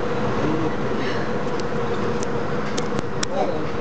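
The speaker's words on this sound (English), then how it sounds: "Monorail." Palm Jumeirah monorail train in Dubai running steadily, a continuous rumbling ride noise with faint clicks, heard from aboard alongside voices.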